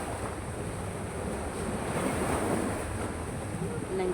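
Sea waves wash steadily onto a beach at Balingoan, a continuous soft surf roar mixed with wind noise buffeting the microphone, fairly quiet, with no clear speech.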